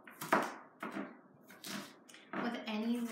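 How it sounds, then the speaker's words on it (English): A knife dices onions and peppers on a board for pico de gallo, a few separate close chopping taps spaced out, with quiet speech between them. "So I'm just trying to get everything diced nice and small."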